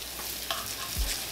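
Floured, seasoned ribeye steaks fry in hot vegetable oil in a skillet, giving a brief, steady crackling sizzle close up, with a light bump partway through.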